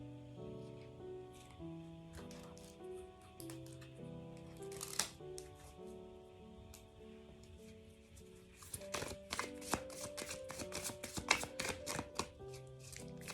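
Tarot cards being drawn and shuffled from a deck, faint papery riffles and taps over soft background music, growing into a quick flurry of card sounds in the second half.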